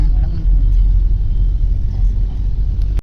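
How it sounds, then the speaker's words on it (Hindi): Traffic on the road near Kotdwar, with buses heading between Kotdwar and Delhi, passes as a steady, loud low rumble of vehicles that continues throughout the clip. "देखो जा रही होगी हमारी कोटद्वार की बस"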